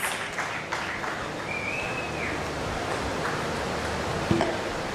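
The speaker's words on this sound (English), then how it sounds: "once again, let's give Aditi a huge round of applause, and the dais is all yours." A crowd claps in a steady, sustained round of applause, soft and diffuse, with a faint whistle-like tone rising briefly in the middle, welcoming a speaker at a conference hall session.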